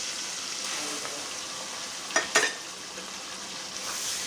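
Ginger paste sautéing in hot oil with tomato paste added, a steady close sizzle with a couple of brief scraping stirs in the middle.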